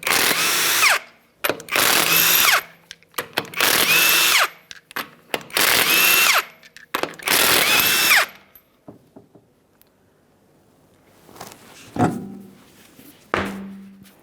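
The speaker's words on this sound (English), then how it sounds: "we're going to remove the wheel by removing all 5 of our 22mm lug nuts" A power impact tool loosens five 22mm lug nuts on the wheel of a 2007-2013 Acura MDX, five loud bursts of rattling whir in a row, each lasting about a second, followed by faint clinks and a couple of short knocks.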